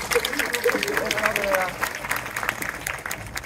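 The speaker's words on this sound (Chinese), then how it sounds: "俾啲掌声鼓励下好唔好？" A cinema audience at a post-screening talk claps in a steady burst of applause, with a voice speaking over it early on as the clapping gradually fades.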